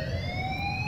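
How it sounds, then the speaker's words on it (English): A loud, steady electronic alarm from the video game Life Is Strange rings with sustained rising tones and a low rumble underneath. No voice is present. "please turn off that alarm since that's your job."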